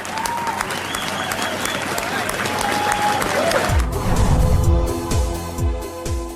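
Sustained applause from a crowd celebrating the completion of Boston's Big Dig tunnel, loud and continuous throughout, with cheering and a low rumbling background sound building partway through.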